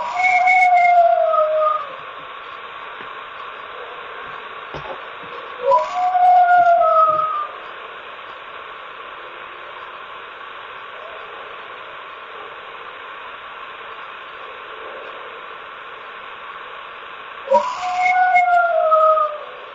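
A recorded howl-like shriek, compared to an elk bugle, rises three times as loud wavering wails. Each call lasts about two seconds, and steady hiss fills the gaps between them.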